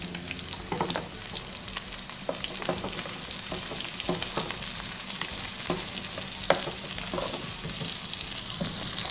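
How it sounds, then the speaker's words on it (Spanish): Ginger, garlic and onion fry in a pan with a steady, close sizzle, broken by repeated scraping stir strokes and a few sharp clinks throughout; no voices. "Vamos a sofreír el jengibre"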